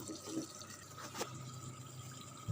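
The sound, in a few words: pouring water into pot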